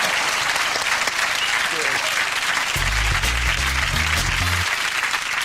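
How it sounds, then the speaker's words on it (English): Loud, sustained applause from a large studio audience fills the room, a continuous wash of clapping with a few brief low thumps partway through. "Ladies and gentlemen, a big round of applause."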